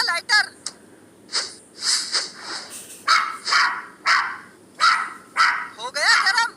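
A dog barks and yelps in repeated sharp bursts, loud and close, with short gaps between the cries.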